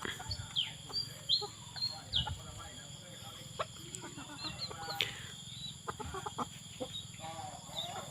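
White bantam chickens cluck in a rural yard, with scattered short clucks and a few wing flaps at moderate distance while someone talks over them.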